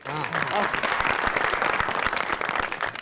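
An audience claps in sustained applause at a lively wrestling-arena comedy show, dense and fairly loud, with a few voices mixed into the crowd noise.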